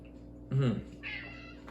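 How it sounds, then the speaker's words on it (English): A cat gives a short, fairly quiet meow, then a second softer one, against faint background hum. "You might hear my cat meowing down there."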